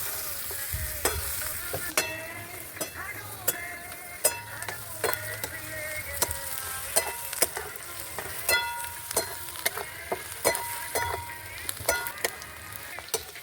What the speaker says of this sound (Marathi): आता कांदा कापलेला घालून घ्यायचा आहे कांदा पण टाकून घेतलेला आहे याला चांगलं लालचर होईपर्यंत भाजून घ्यायचा आहे